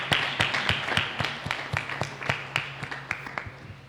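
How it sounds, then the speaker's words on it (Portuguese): A church congregation claps at a Sunday service. The claps are sharp and fairly sparse, coming in an uneven rhythm for about four seconds, loud and close, with only a faint murmur underneath. "Pode aplaudir bem forte."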